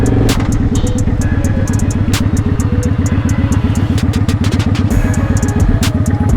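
A motorcycle being ridden after eight weeks off, its engine running loud and close throughout with a steady, fast-pulsing exhaust rhythm and clattering, rattling detail over a constant drone.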